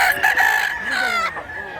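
A rooster crows once, loud and close, among chickens offered for sale at a market in Mantalungon, Cebu, with a short cluck just before it.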